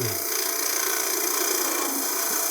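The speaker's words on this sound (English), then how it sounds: "It's not a full-on scrape. It's a peel cut." A woodturning tool makes a peel cut on a spinning lathe while turning a bead and cove stick, producing a continuous close rasping, shaving hiss over a steady motor hum, with no talking.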